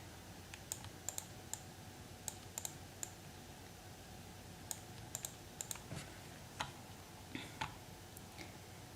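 A computer mouse clicks quietly and irregularly while the Photoshop clone stamp tool is in use, sharp single and double clicks over a faint background hiss with no talking.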